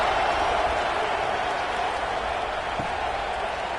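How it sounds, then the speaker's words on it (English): Football stadium crowd at an AKFL game buzzes after a touchdown, a broad continuous roar of many voices at fairly even loudness, with no distinct words standing out. "this crowd is buzzing after that last score"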